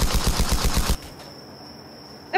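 A rapid burst of automatic gunfire in the Roblox game Wild West rattles for about a second, then cuts off to a quiet hum before one more sharp shot.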